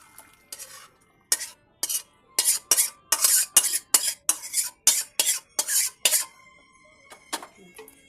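A metal cooking pot of fish curry with cauliflower is shifted and lifted off the stove, giving a run of close, sharp clanks and scrapes of metal on metal in quick irregular bursts, then a few softer knocks.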